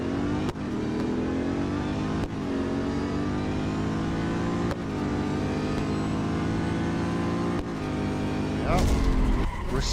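A Chevrolet car in a Real Racing 3 drag race, its engine rising steadily in pitch through each gear with sharp shift breaks at regular intervals, ending in a harsh roar and tire noise, loud and up close.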